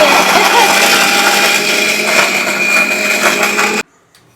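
A loud, steady electric mixer grinder whirring and grinding coconut chutney for several seconds, then cutting off abruptly into silence.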